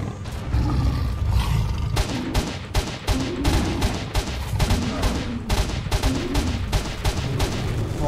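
Dense, rapid gunfire in S.T.A.L.K.E.R.: Shadow of Chernobyl, repeated sharp shots in quick bursts over a droning, rumbling background, loud and close with no speech.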